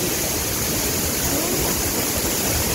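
Vera Falls, a waterfall in Malinao, Albay, roars as a steady, dense rush of falling water, loud and close, filling the whole stretch without a break and with no voices.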